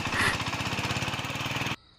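A voice imitates a shallow water pump engine, making a loud, steady, rapid chugging rattle that runs close up for under two seconds and then cuts off abruptly to quiet.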